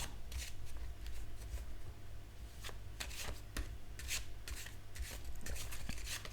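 Soft, close ASMR card shuffling and picking, a run of papery riffles and flicks repeating steadily at low volume with no talking.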